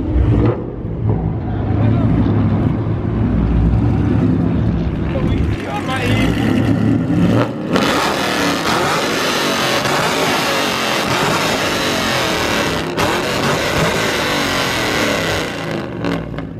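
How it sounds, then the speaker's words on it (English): A car engine revs hard and loud with repeated throttle blips that rise into a sustained roaring note, and people talk and react over the noise. "these guys are gonna rev it for the YouTube"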